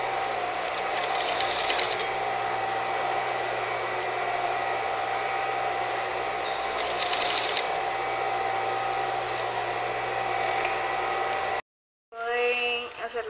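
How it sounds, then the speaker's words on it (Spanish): Sewing machine stitching the seam of a men's tailored collar, a loud, steady mechanical whir running continuously for about eleven seconds before cutting out briefly, then a short burst of movement noise. "y seguimos cosiendo al centímetro."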